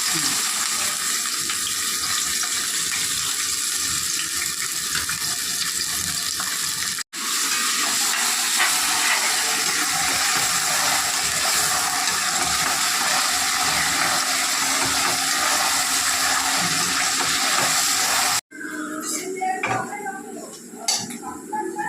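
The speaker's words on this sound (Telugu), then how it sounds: "పచ్చిమిరకాయలను ఉల్లిపాయ ఉల్లిపాయ వేసేస్తాను జాగ్రత్త మీద పడుద్ది" Onions and green chillies dropped into hot oil for a chicken curry, giving a steady broadband sizzle and hiss that runs continuously, with a brief break near the middle and a quieter, sparser crackle at the end.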